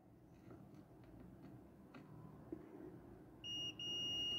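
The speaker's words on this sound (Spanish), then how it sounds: "4 ohms nada más suena el tester" A multimeter continuity tester probing a shorted LVDS line on a Samsung UN40FH5303G TV board gives a sharp high steady beep near the end, briefly interrupted, after several faint clicks over quiet background noise.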